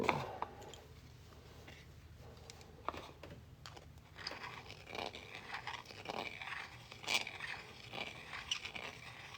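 Metal is cut away from the inner lip of a coin ring, producing a continuous close scraping and grinding texture broken by small clicks and taps, steady in level for several seconds, with no speech.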